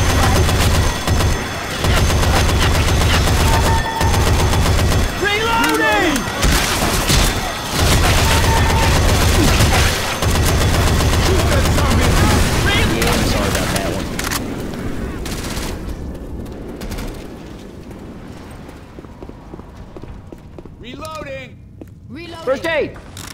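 Gunfire in the Left 4 Dead 2 Warcelona map, dense bursts of automatic fire and heavy shots continuing for long stretches, loud and close, with shouting game voices over and between the shooting.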